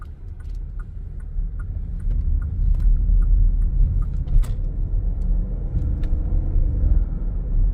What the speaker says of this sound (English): These things definitely have a lot of power. They get up and go. Big V8.